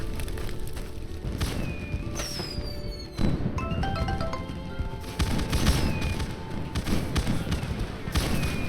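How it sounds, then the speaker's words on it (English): Fireworks at a year-end event in the video game My Time At Sandrock: repeated booms and crackling bursts with whistling rises, over a bed of background music and ambient noise. "Time for fireworks."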